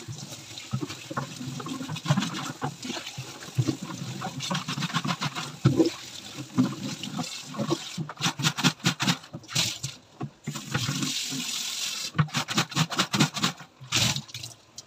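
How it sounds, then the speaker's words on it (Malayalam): Water runs and splashes while a can is rinsed after the dishes, a steady trickle broken by bursts of spattering and sharp knocks as the can is handled, close and moderately loud. "പാത്രങ്ങളെല്ലാം കഴുകി കഴിഞ്ഞ് പിന്നെ ക്യാനൂടെ ഒന്ന് കഴുകിയെടുക്കട്ടെ"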